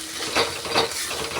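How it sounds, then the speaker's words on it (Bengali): Dhoka lentil batter is stirred continuously in hot oil in a pan. Two quick scraping strokes rise over a constant sizzle in a short close burst. "ধোঁকার গলাটাকে দিয়ে দেব, দিয়ে এটাকে ঠিক অনবরত নাড়াতে হবে"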